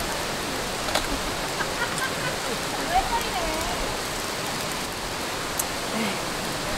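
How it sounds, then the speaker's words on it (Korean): Rain falls steadily at a campsite in Micheongol Natural Recreation Forest, a dense, even hiss of drops on surfaces with occasional louder taps, continuous throughout. "지금 비가 와요."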